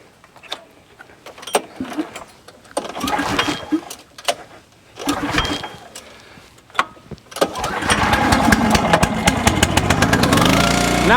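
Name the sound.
commercial vertical log splitter engine starting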